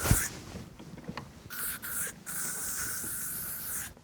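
Spray-on sunscreen from an aerosol can, heard on a fishing boat as a few short hissing bursts followed by one long steady spray, close by.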